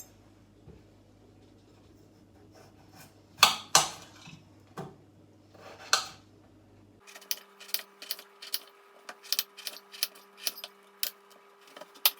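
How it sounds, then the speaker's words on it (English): A knife chops potatoes into chips on a board, starting with a few scattered knocks and then settling into a quick, regular run of close, crisp taps, with no talking. "Next I'm going to chop up the potatoes into chips."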